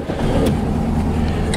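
A 1963 VW Beetle on a test drive produces a steady, loud, low engine drone with road rumble, close and continuous through the short stretch, with no talking.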